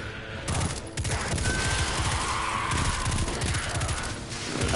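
Continuous rapid bursts of weapon gunfire in the video game Destiny 2, loud and dense with short pauses, filling the whole stretch.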